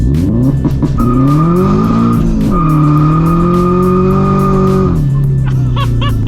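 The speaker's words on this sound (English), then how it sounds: "We just literally roasted my tires." A turbocharged Subaru BRZ launching hard, engine roaring loudly and close throughout while the tires squeal in long sustained tones that bend and shift pitch before fading.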